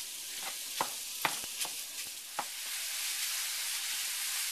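Sausage browning in a frying pan, with a steady background sizzle and several sharp scraping clicks from a spoon or spatula stirring it over the first few seconds.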